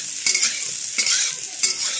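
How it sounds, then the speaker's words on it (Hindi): Potatoes frying in a pan with a bright, continuous sizzle and three spaced scrapes of a spatula stirring them, close and fairly loud, with no speech. "तो आलू को भी फ्राई कर रहे हैं हम।"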